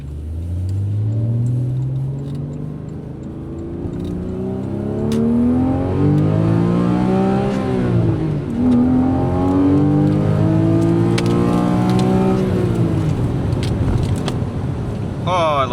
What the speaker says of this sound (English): God, I love this engine.